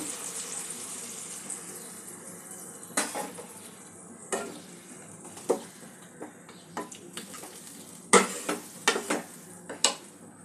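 Vegetables cook in water in a pot for katla fish curry, with a low bubbling hiss under a series of sharp utensil clinks and pot knocks spaced through the clip.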